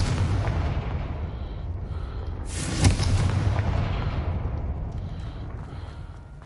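A Confringo spell blasts in the Hogwarts Legacy game with a sharp, loud explosive boom, followed by a rumbling tail that slowly fades over steady background noise.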